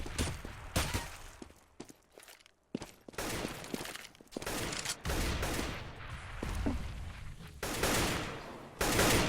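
AK rifle fire from an esports video game match at the ESEA Invite rattles out in repeated loud bursts and rapid volleys, with a few short gaps and sharp impacts between them.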